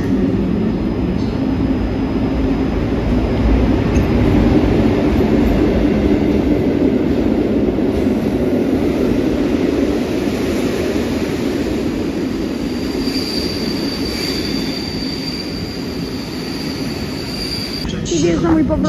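An Express Intercity Premium train rolls along a Warsaw platform with a loud, steady rumble of wheels and carriages and a thin high whine. It eases slightly near the end, with some voices faintly underneath.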